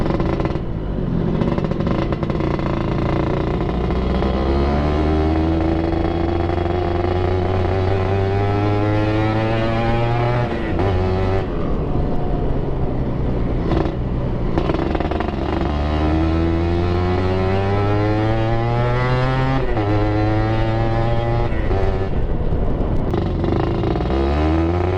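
A Suzuki Satria 120R motorcycle with an aftermarket exhaust rides through dense traffic, its engine rising and falling through repeated revs and gear changes, loud and close, with no talking.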